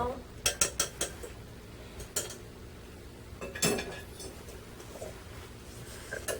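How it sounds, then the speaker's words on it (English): Lemon bar crust being mixed in a bowl with a utensil, a cluster of sharp clinks and scrapes against the bowl, then sparser taps and scrapes, close and fairly quiet. "So you're gonna mix that all up"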